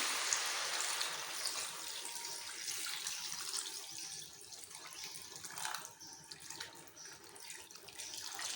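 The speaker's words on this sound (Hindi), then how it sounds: "पानी हम इसमें 1 लीटर के करीब पानी शामिल करेंगे।" Roughly a litre of water pours into a pot of mutton malai handi gravy, a steady broadband splashing and gushing that runs for several seconds at fairly even loudness with no talk over it.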